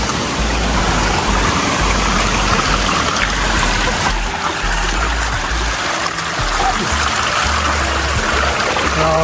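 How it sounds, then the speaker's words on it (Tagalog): A strong current of water rushes and gushes loudly and continuously nearby, a dense unbroken roar of flowing water. "Grabe yun. Lakas ng tubig."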